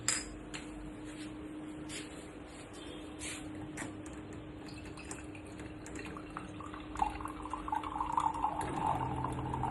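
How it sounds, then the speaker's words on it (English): Water runs and trickles into a small metal moka pot, quiet and close, with faint drips and light metallic clinks, rising slightly near the end as the pot fills. "We'll fill the mokapot with some water first."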